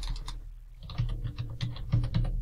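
Quick bursts of keystrokes on a computer keyboard, close and crisp, in two short clusters separated by a brief pause, with no talking.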